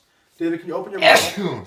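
A single short sneeze from a patient during a nursing assessment in an exam room comes right after a brief spoken question.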